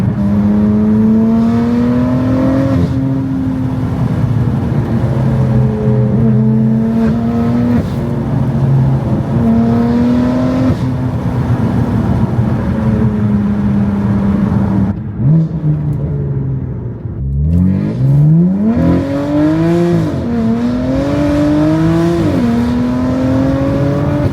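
A BMW F8X valvetronic exhaust revs continuously, engine pitch rising and falling in repeated throttle blips above 2,100 RPM, loud and close, with a sharper climbing rev near the end.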